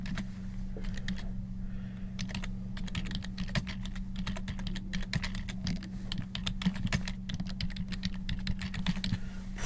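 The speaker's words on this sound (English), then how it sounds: "So we would type notes in here." Steady computer-keyboard typing as notes are entered during a patient assessment, the key clicks coming in rapid uneven bursts over a constant low hum throughout, with no voices.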